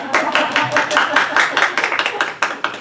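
Dense, rapid clapping from a church congregation at a Sunday service, steady and loud for a few seconds with a voice faintly underneath.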